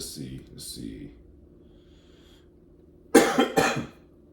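Two sharp coughs close together, loud and near, following a stretch of quiet talking.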